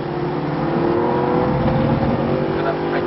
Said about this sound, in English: It's got a fantastic engine. Listen to that.